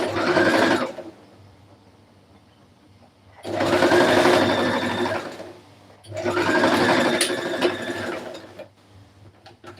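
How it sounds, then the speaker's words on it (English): A sewing machine stitches a wrap blouse in three sustained runs of rapid mechanical whirring and clatter, close and loud, with quiet pauses between the seams. "So I'm going to sew here, join this part here."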